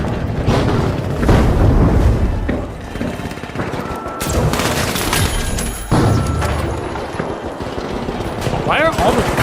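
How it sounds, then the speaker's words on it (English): A grenade goes off during a firefight in the video game The Finals, a heavy boom set among rapid machine-gun bursts and scattered gunshots, loud and close throughout. "Grenade out."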